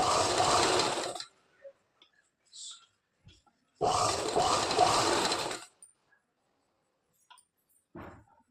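A sewing machine stitches around a tucked, rounded section of a blouse, running in two loud bursts of about a second or two each, separated by quiet gaps with faint handling sounds.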